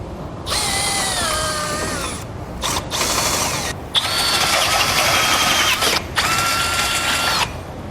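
A power drill whines in several bursts, pitch dipping as it enlarges a hole in the metal frame of a 2018 Subaru, with short pauses between, loud and close.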